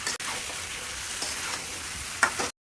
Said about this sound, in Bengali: আলুটা দিয়ে ভালো করে মশলাটা সাঁতলে নেব